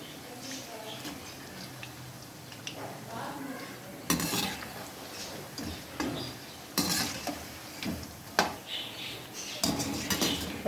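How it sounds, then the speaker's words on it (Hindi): Spinach pakoras fry in oil and are flipped one by one, with scraping and clattering of a utensil against the pan in sharp bursts over a quiet, low sizzle. "एक एक करके सबको इसी तरह उल्टा लें, ताकि अच्छी तरह फ्राई हुए पकौड़े।"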